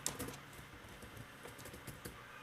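Rapid, irregular keystrokes on a computer keyboard during Django coding work, close and fairly soft, with a steady patter and no talking.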